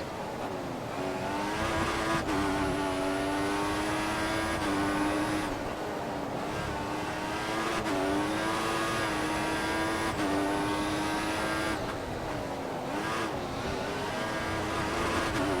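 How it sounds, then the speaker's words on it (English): Race car engine from the F1 2014 video game at the Russian Grand Prix, a loud continuous high whine that climbs and drops sharply with repeated gear shifts, with tyre noise beneath, heard alone without talk. "We've only got 5 laps to go in this race to really catch up to Rosberg"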